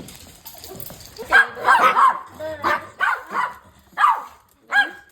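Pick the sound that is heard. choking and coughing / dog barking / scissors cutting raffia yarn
dog barking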